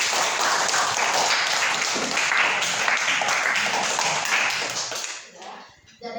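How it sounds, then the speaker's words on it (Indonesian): Classroom applause for student discussion groups after their presentations, dense clapping filling the room for about five seconds before fading out, with a voice briefly heard. "Tepuk tangan dulu untuk semua."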